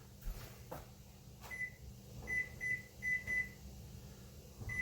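A kitchen timer being set, a few short electronic beeps at an even pace after a couple of soft clicks, quiet in a still room.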